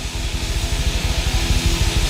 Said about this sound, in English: That noise is the sound of drums, cymbals